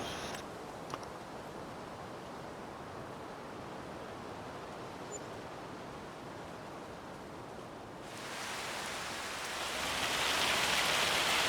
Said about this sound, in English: And it's raining cats and dogs.